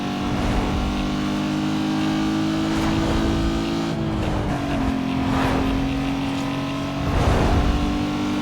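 Racing car in Need for Speed Most Wanted, its engine droning steadily at high revs with gear shifts and surging accelerations, loud and close, with no talk.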